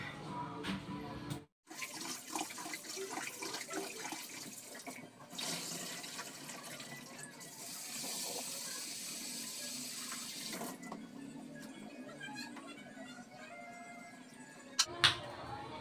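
Water runs from a kitchen tap while rice is washed for cooking, a steady rushing flow that starts after a short pause and continues at moderate level, ending with a couple of sharp knocks.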